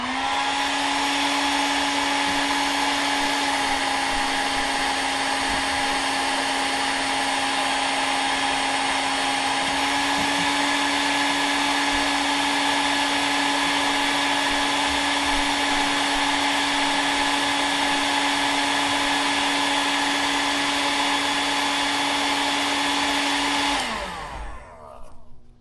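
Heat gun warming lead jig heads for powder painting, a loud continuous blowing roar with a steady tonal hum that holds for over twenty seconds before shutting off.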